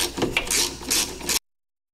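A ratchet wrench works on the shock absorber hardware of a Ford Mustang, giving a close, brief burst of rapid clicking ratchet strokes that lasts just over a second, then stops.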